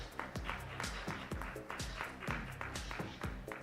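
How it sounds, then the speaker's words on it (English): Audience applause at an education festival award ceremony: quiet, scattered clapping from a modest crowd, with hand claps landing in a loose, uneven rhythm throughout. "A round of applause."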